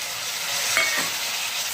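Tomatoes with half a spoon of chili flakes sauté in a pan, giving a loud, close, continuous sizzle with a brief stir in the middle.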